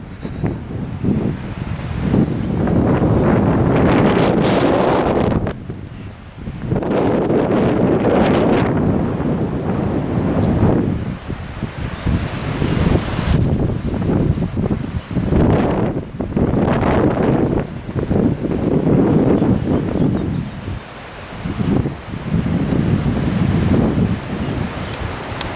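Strong gusts buffet the microphone outdoors on the grounds of the North Wales Hospital, a loud continuous roar that surges and dips in waves with brief lulls.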